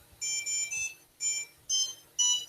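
A robot's light sensor sets off a high electronic alarm when a box is opened, sounding as six short, clean beeps in an uneven pattern of pairs and singles over near silence.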